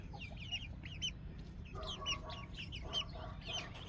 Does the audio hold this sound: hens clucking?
yes